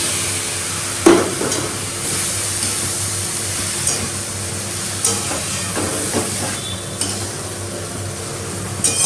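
Soybean chunks being stirred into spice masala as it fries, with a steady hiss and sizzle and occasional sharp scrapes and knocks of the spoon against the pan, loud and close.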